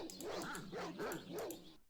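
Several dogs bark and yip in a Baldur's Gate battle, a run of repeated barks over roughly two seconds with a steady rhythm, fairly close and moderately loud over game ambience.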